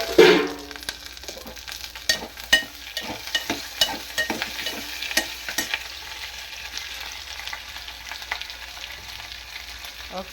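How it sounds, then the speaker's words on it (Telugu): Chopped tomato tipped into a pan of browned onions and potato pieces for a potato curry, then stirred: a steady close sizzle broken by repeated scraping spoon strokes and soft clacks, busier at first and settling toward the end. "టమోటా అయితే వేసేస్తున్నాను."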